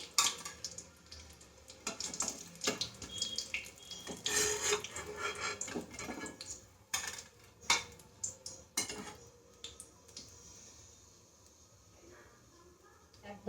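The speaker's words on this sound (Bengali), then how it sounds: "এই দেখুন অপর দিকটাও সুন্দরভাবে ফ্রাই হয়ে গিয়েছে।" Fish cutlets frying in oil, with irregular clinks and scrapes of a spatula against the pan over a soft background sizzle, fairly close, some sounds sharper in the first half before settling quieter.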